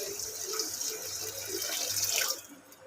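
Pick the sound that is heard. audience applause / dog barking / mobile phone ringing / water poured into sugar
water poured into sugar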